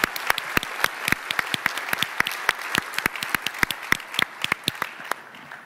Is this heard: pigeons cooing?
no